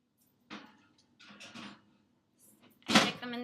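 An oven door shuts with a firm thud near the end as a pan of brownie batter goes in, after a few softer knocks and kitchen handling sounds close by.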